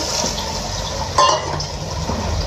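Half a cup of water is poured into a cauliflower and meat curry in the pot, a steady close liquid rush with a brief louder splash midway, heard alone without speech.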